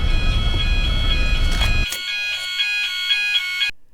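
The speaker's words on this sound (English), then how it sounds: "fire alarm going off." Apartment fire alarm going off, a loud sustained electronic tone with steady harmonics that carries on alone after a burst of loud game noise cuts out, then stops abruptly near the end.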